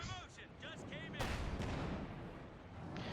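A StuG assault gun's 75mm cannon fires in the World War II strategy game Company of Heroes 2: one loud, sharp blast with a rumbling tail, set among busy battle effects and sporadic game voice lines.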